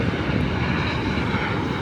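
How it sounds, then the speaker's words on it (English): A helicopter passes overhead at a beach, a loud dense rotor and engine roar that fills the short moment with no other sounds above it. "Oh, there's a helicopter."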